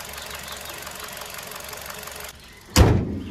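Petrol engine of a Honda Amaze car idling evenly with a steady, moderate mechanical hum, followed by a sudden loud thump near the end.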